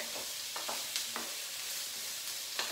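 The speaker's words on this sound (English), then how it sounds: "So I've got all those sauteing in the pan." Vegetables for a Greek ratatouille sauté in olive oil in a pan, giving a soft, even sizzle close by with a few brief clinks and stirring scrapes, faint and without talk.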